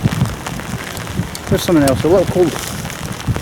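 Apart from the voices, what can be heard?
heavy rain falling at docks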